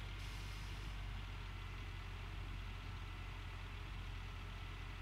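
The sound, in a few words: dump truck engine idling and moving slowly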